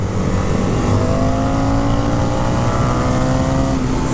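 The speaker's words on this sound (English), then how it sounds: "Definitely the fastest bike the Indian makes." A 2023 Indian FTR R Carbon 1200 motorcycle accelerating hard, a loud continuous engine roar with rising pitch and heavy wind rush, close and with no voices.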